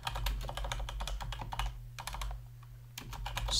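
Someone types a command on a computer keyboard while setting up an Ubuntu server, with quick clusters of close, crisp keystrokes, a short pause partway through, then more typing, all fairly quiet and without speech.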